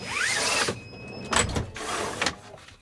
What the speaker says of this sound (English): I will close the window shields.